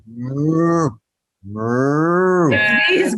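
A man imitates a cow with his voice in a barn, giving two long, deep, drawn-out moos separated by a short pause, loud and close.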